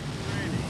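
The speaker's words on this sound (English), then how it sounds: "Is there like a skill to not make the waves splash up?" Rough seas roar and splash around a small rescue boat, a dense continuous wash of water and wind rumble filling the brief moment.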